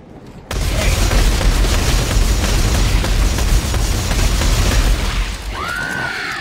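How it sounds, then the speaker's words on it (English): Booming gunfire from the third-person shooter Dead Space 3, a dense, continuous barrage of blasts filling several seconds, loud and close, easing slightly near the end. "We're getting shot at."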